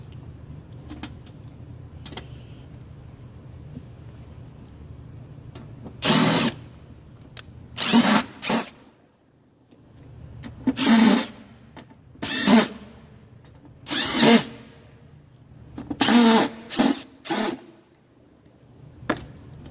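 A power drill drives four screws to mount a new beer pump on a Bottoms Up draft system, in about eight sharp, loud bursts separated by short quiet gaps, close by with no talk.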